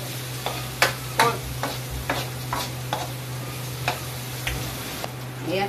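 Onion and garlic sauté in a pan under a low sizzle, with a regular series of crisp utensil taps and scrapes from stirring, close by, over a faint steady hum.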